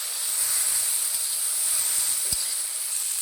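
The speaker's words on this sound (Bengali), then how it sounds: "ভালো করে একটু ভেজে নেব" Ground spices, cumin and chilli powder, frying in a pan over the heat, giving a continuous bright hiss and sizzle at moderate loudness, with a faint knock or scrape partway through and no talking.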